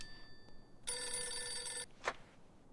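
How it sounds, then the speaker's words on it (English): Old-style telephone bell ringing in the video game Mafia 2, one sustained metallic ring burst lasting about a second, followed by a short click, moderately loud against a quiet background. "And apparently, the phone's ringing."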